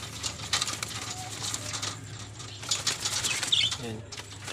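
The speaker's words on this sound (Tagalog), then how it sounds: "Pakainin natin yung mga ibon na itong mga kalapatids." Pigeons being fed flap their wings in several brief bursts close by, over a steady low rumble, with a few faint chirps mixed in.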